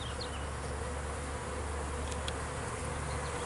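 Bees buzz near sunflower stalks outdoors, a continuous close drone of many wings with a couple of brief sharper passes, steady and fairly loud throughout.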